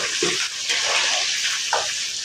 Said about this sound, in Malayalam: നമുക്ക് നല്ലതുപോലെ ഒന്ന് വറുത്ത് കോരിയെടുക്കാം കേട്ടോ അപ്പം നല്ലപോലെ ഫ്രൈ ആവട്ടെ